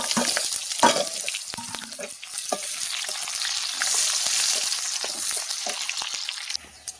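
Chopped onions fried with browned garlic in a pan, a steady close sizzle with frequent spatula scrapes and taps, fairly loud and without speech.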